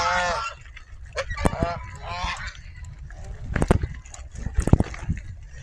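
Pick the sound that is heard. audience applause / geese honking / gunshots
geese honking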